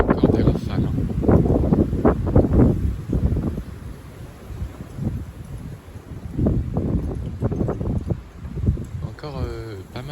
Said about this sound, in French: Le vent a encore soufflé jusqu'à 70 km/h.